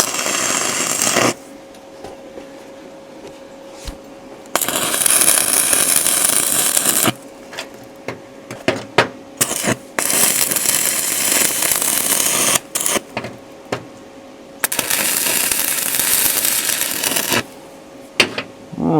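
Stick welding tacks metal held in a vise, several bursts of harsh crackling sizzle of varying length, loud and close, separated by short quiet gaps.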